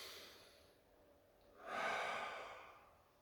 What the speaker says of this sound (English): I want you to breathe deep with me.